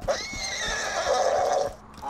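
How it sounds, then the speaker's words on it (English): A horse made of diamonds in the video game Borderlands 2 gives one loud whinny lasting about two seconds, with a player's voice over it. "It's a living horse that actually happens to be made of"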